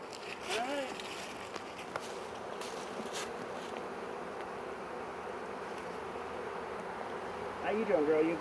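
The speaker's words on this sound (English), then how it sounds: "tons of bees" A captured swarm of honey bees produces a steady, dense buzzing throughout, close and continuous, with brief talk from people at the start and end.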